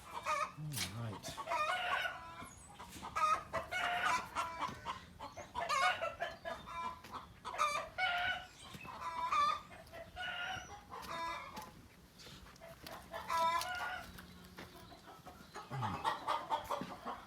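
Hens cluck and a rooster crows repeatedly at close range in a farmyard with Muscovy and Ancona ducks nearby, the bursts of calls coming in an irregular rhythm through the whole stretch.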